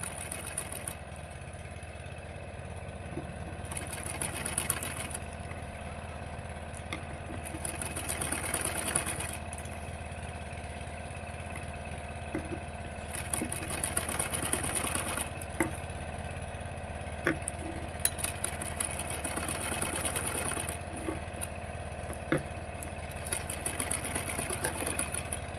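A sewing machine hums steadily while stitching a blouse sleeve to its back piece, with several bursts of faster, louder running over a constant motor drone; no talking.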